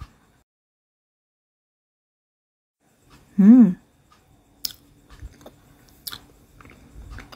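Soft pandan coconut milk sponge cake is chewed close to the mic in a few quiet, moist bites after a short hummed voice, with near silence before.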